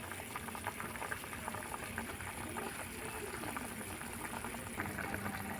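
Rasbora sweets made with coconut and sweet potato boil in sugar syrup, a faint but steady bubbling and gurgling that continues without a break.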